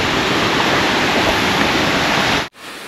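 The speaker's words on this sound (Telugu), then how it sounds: "మీకు ఆల్రెడీ సౌండ్ వినిపిస్తుంది కదా వాటర్ ఫాల్ది." Chunchi Falls, a waterfall near Bangalore, roars in a dense, steady rush of falling water that fills the air, then cuts off abruptly near the end.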